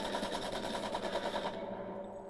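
Rapid gunfire from a weapon in the video game The Last of Us rattles loudly in a dense automatic burst for about a second and a half, then cuts off into near silence.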